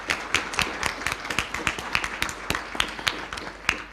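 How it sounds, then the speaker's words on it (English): Audience applause at a workshop event marking a Buddhist university's anniversary: a steady run of individual hand claps, fairly close and moderately loud, continuing without talk. "I would like to kind of give you an applause."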